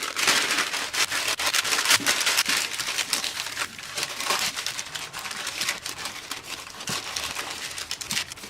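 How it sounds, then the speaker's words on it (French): Parchment paper crinkles and rustles as it is pressed into a buttered brioche mould, a continuous faint crumpling with irregular rubbing and crackling and no voices. "on beurre le moule et on y place la feuille de papier sulfurisé"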